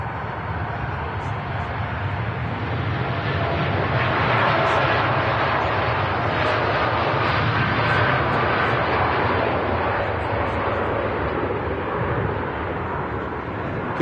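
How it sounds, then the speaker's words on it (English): A TUI Boeing Dreamliner airliner on its takeoff roll at Manchester Airport, a loud continuous jet engine roar that swells and holds steady, heard from a distance outdoors. "TUI Dreamliner now on the roll"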